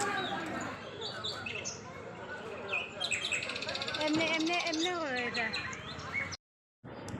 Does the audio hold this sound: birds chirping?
yes